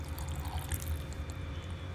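Water is poured into a masala mixture in a grinder jar, a soft steady trickle and splash heard close up over low background noise, with no talk.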